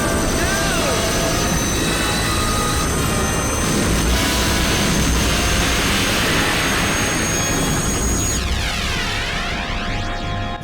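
A futuristic, oddly shaped helicopter in the video game Carrier gives off a loud, steady turbine roar with rotor wash, continuous throughout and rising toward a sweeping whine near the end, with no talk over it.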